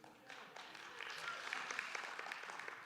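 A church congregation applauds during a sermon, a soft, continuous patter of many hands heard at a distance and fairly low in level.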